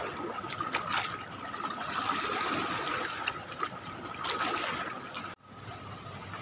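A freshly caught fish goes into the water of the Teesta river amid a continuous close trickling and gurgling of flowing water, which cuts off sharply near the end before resuming more quietly.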